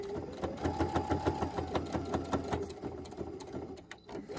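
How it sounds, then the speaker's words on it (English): A sewing machine runs steadily while stitching elastic into a fabric mask, close and loud, its rapid needle rhythm chattering evenly for a few seconds with a slight falter near the end as it backstitches. "Remember to backstitch a couple of times."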